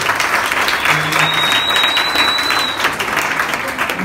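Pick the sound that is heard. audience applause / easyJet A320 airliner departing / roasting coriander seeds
audience applause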